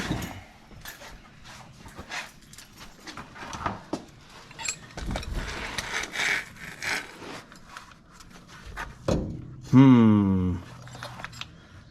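A cutting tool bites into a rusted nut and bolt on a Ford Courier. Scraping and handling noises come first, then a brief, loud rising mechanical whine near the end, with someone talking intermittently throughout.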